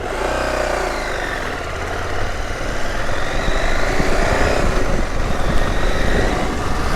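A Husqvarna Norden 901 adventure motorcycle in off-road mode runs with a steady, loud, close engine rumble that builds gently as it pulls away, with no talking.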